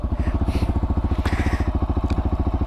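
A 2019 SWM Gran Milano 440 motorcycle idles close by with a deep, throaty single-cylinder rumble whose exhaust pulses are loud and rapidly, evenly spaced.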